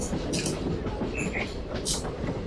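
A long-distance passenger train on the Bhimavaram to Nagarsol route pulls out of Warangal railway station, a steady loud rumble of wheels and carriages with brief higher squeals and clatter throughout, heard from on board.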